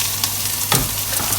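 Bell pepper frying in a hot pan for poutine, a steady close sizzle with a brief louder stir partway through.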